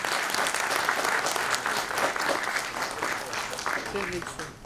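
A summit audience in Delhi gives a loud, full round of applause for a guest being welcomed, dense clapping that stays strong throughout before tapering at the end, with some voices mixed in.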